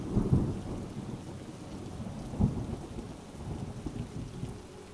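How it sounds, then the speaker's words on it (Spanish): Low rumbling thunder rolling under steady heavy rain at sea, with a couple of closer lightning cracks standing out; no voices. "Los relámpagos están cerca."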